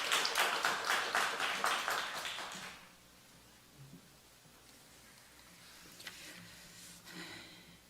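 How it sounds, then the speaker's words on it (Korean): A church audience at a Methodist theological seminary leadership class applauds for about two and a half seconds, a dense burst of many hands that then stops abruptly, leaving quiet room tone with faint rustles. "박수로 맞아주시기 바랍니다."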